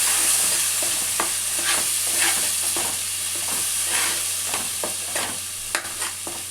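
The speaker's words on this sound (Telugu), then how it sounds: "ఈ పేస్ట్ కూడా కొంచెం వేగాలి నూనెలా." Spice paste fries in oil for a murrel fish curry, making a steady close sizzle broken by repeated clicks and scrapes of stirring.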